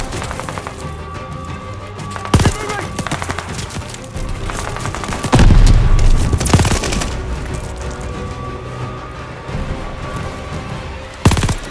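Heavy gunfire in the Call of Duty Vanguard video game, with dense overlapping bursts of rapid automatic shots and several louder close blasts rising from a constant barrage of combat noise.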